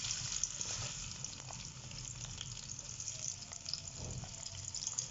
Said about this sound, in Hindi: जी तो घी डालने के बाद हम इसमें प्याज डालेंगे।